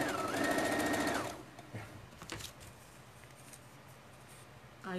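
A sewing machine runs in a short, fast, close burst for about a second, then stops, leaving faint handling taps and quiet room noise, and it starts again briefly at the end.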